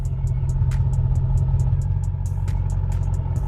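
A 2007 Chevrolet Avalanche Z71 with its muffler deleted idles with the air conditioning on, giving a deep, steady, close-up rumble with a quick, regular ticking clatter running over it.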